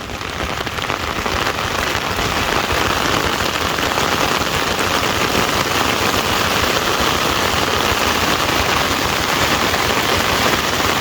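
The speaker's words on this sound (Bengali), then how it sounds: "বৃষ্টি তো ভালোই হইতেছে" Heavy monsoon rain pouring onto farm fields with bunded plots, a steady dense hiss of drops striking wet ground, loud and unbroken throughout.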